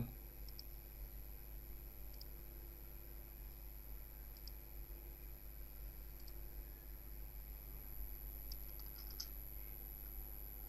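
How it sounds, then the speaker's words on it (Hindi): Soft, sparse keystrokes tap on a computer keyboard while typing Santali script, a few scattered clicks over a steady low hum and hiss; no talking. "नोंडे सानताली कीबोर्ड टाइप हुआ"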